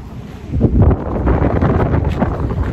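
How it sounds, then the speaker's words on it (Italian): Wind blows hard across the microphone in a continuous low, gusty rumble, loud and close, at a muddy parking area in snowy Turkey. "Ci sarà vento"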